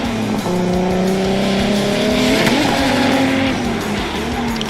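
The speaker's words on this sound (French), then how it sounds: "Anthony Pereira, c'est parti pour son run retour." A rally car in a French championship event launches on its return run, engine revving hard through rising gear tones with a brief tire squeal midway; loud, close and continuous, no voices.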